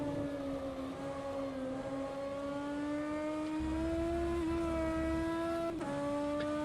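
A BMW M4 DTM race car engine in rFactor 2 at Monza screams at high, steady revs, pitch drifting slightly and dipping once briefly before climbing again, loud and continuous.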